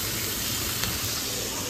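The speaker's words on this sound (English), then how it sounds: "Put some cooking spray." Cooking spray hissing from a can into a frying pan, a short, steady, close spray of about two seconds with no talking over it.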